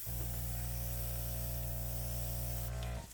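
Continuous soft hiss of an airbrush spraying acrylic paint for a coral flip-and-drag pour, steady and close over a faint hum, cutting off sharply near the end.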